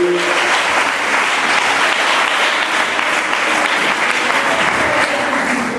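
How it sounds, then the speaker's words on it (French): Church congregation applauding and cheering in a loud, continuous wash of clapping that holds steady throughout with no pauses. "On acclame le Seigneur bien-aimé."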